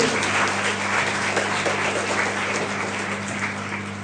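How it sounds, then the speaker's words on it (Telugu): An audience of students and guests at a gurukula school function gives a dense, steady round of applause that stays loud and even throughout, with no voices above it. "మీ యొక్క గట్టి కరతాల చప్పట్లతో వారిని అభినందిస్తూ"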